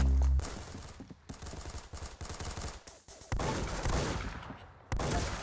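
Rapid video-game gunfire from what may be an FMG-9 submachine gun comes in loud, dense bursts with brief gaps between volleys, the automatic fire sounding close and harsh.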